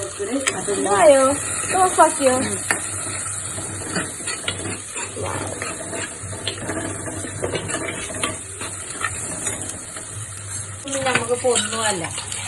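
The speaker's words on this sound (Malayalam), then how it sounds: "അമ്മക്ക് പാത്രം കഴുകുന്നു" Water runs and splashes as dishes are scrubbed and clatter, with a voice talking over the washing at intervals.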